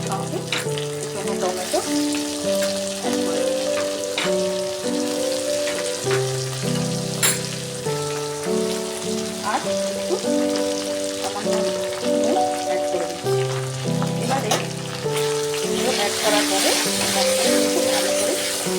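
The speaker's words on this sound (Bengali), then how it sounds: "এই তেলের উপরে দিয়ে এবারে আমি এই যে আগে থেকে আদা রসুনের পেস্টটা বানিয়ে রেখেছিলাম অ্যাড করে দিয়েছি" Ginger garlic paste sizzles loudly as it fries in hot oil for a home-style desi chicken curry, a continuous crackling hiss with occasional stirring scrapes and a musical backing underneath.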